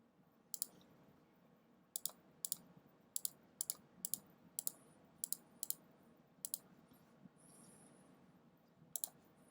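Computer mouse clicking while filling areas in Photoshop: about a dozen sharp, close clicks, some in quick pairs, spaced irregularly over a faint hum.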